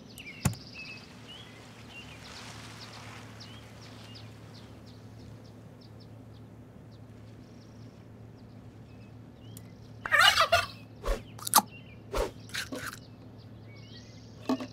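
A turkey gobbles in the video game Super Auto Pets, a burst of quick, bright gobbling calls after a long stretch of quiet background music.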